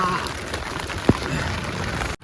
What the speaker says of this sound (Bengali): ঝড়ে পড়ছে বৃষ্টি